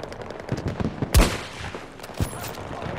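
Battlefield 2042 Season 4 gunfire on a new map: scattered distant shots, then a loud close blast around one second and another sharp report near two seconds, over a low background rumble.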